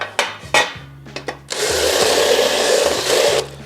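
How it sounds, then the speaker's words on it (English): A countersink bit spun in a drill deburrs a freshly drilled hole in metal for a Honda Shadow fender and sissy bar kit: a few short whirring bursts, then a longer loud grinding rasp of about two seconds, close up. "countersink goes in the drill, and you can roll this around. Takes off all those burrs"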